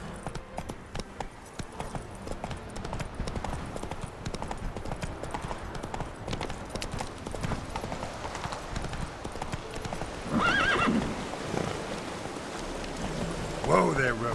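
A horse gallops in The Witcher 3 video game, quick rhythmic hoof clip-clops over patter resembling rain, with brief louder bursts near the end, moderately quiet and continuous.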